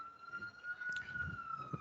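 A fire truck siren wails faintly outside, a steady electronic tone held across the whole moment, with low room noise and no talk.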